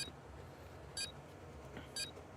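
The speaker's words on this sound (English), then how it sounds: "Oh, this timer sound?" A Call of Duty: Black Ops 2 countdown timer gives two quiet electronic beeps exactly one second apart over faint in-game background hum.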